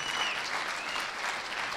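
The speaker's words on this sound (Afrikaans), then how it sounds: "Kom, klap vir die Here." A church congregation claps and applauds for the Lord during a worship service, a dense continuous wash of many hands heard from a slight distance, with faint voices mixed in.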